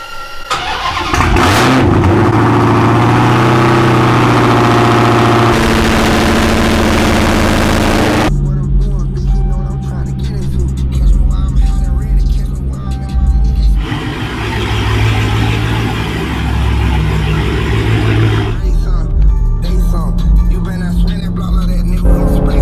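An 850-wheel-horsepower Driftcat car engine fires up and runs loud and close, with a rough, lumpy idle and rising revs over a cabin background, and a voice speaks over it.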